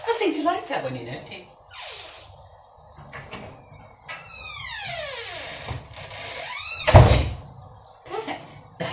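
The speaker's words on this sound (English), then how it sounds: "Please stop your door from banging over." A door fitted with a closer swings and bangs hard onto its faulty latch, a sharp loud slam near the end, with creaking, rattling and clattering handling sounds before it.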